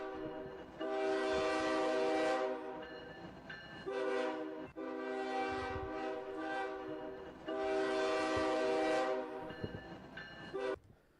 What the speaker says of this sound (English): the train now approaching platform 2 is your express.